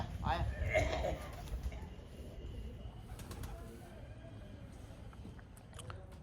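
Pigeons, kept and flown by children, cooing softly in an outdoor loft setting, with people talking loudly over them at the start and fainter bird sounds continuing under steady background noise.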